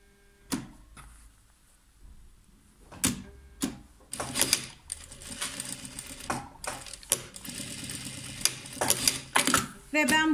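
A sewing machine stitches along the edge of a flap pocket in bursts, its mechanical whirring and clicking starting and stopping with short pauses, with a few handling knocks between runs and no talk over it.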